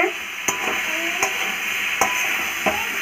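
A Bengali curry being stir-fried in a pan, with a loud steady sizzle broken by four evenly spaced scraping strokes of a spatula, close up and with no talking.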